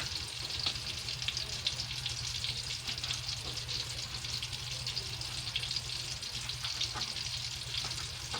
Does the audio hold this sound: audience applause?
no